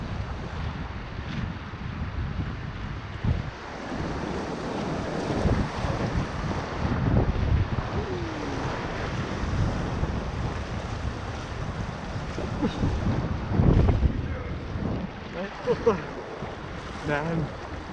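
Whitewater rapids churn and rush around a kayak on a Finnish wilderness river, a continuous broadband roar of turbulent water and wind buffeting the microphone close by, with no talk.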